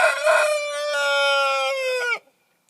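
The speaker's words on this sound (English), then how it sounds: "The rooster is like 3 feet from where I am, so I'm sorry if that was really loud." A rooster crows about three feet away, one long loud cock-a-doodle-doo drawn out for two seconds before cutting off into silence.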